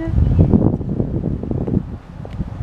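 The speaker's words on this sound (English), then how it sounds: "There is wind." Wind gusting into a camera microphone outdoors near a city hall and civic center, a loud low buffeting rumble that fluctuates throughout the short moment.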